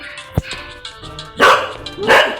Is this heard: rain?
no